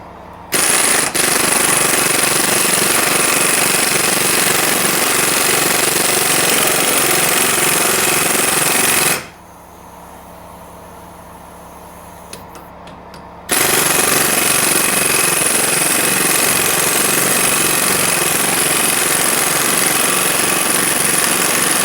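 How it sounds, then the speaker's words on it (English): A loud pneumatic impact wrench hammers continuously on the lower ball joint nut of a Chevy Silverado, stops for a few seconds, then resumes its rapid rattling burst. "Time to loosen that lower ball joint"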